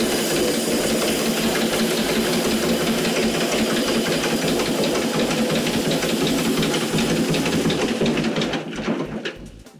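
A corn suction machine in a zoo's animal-food kitchen pulls corn into a sieve collector with a loud, steady roaring whoosh and a mechanical rattle, sustained throughout before tapering off at the very end.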